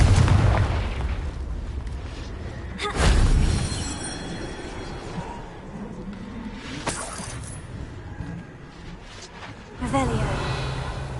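Booming blasts from a Confringo blasting curse in the Hogwarts Legacy game, several loud explosive hits spread across the stretch with rumbling tails, mixed with game voices and combat noise.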